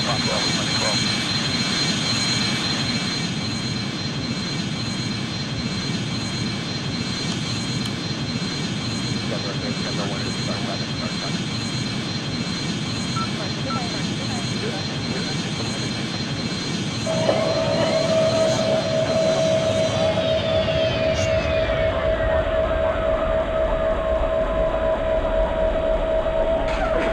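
Steady engine roar of a Boeing MD-90 airliner coming in to land in the Airline Commander flight game, a constant loud drone that shifts tone near the end as a sustained whining note rises and falls away, with a voice talking over it.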